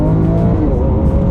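Lamborghini Aventador at full throttle on a race track, a loud, close engine roar with rapidly shifting pitch as the gearbox snaps through shifts, over about a second.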